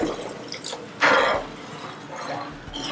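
Water poured from a glass into a cornflour and mushroom masala paste gives a brief splashing gush with scattered drips and wet squishes around it, close-up and without talk.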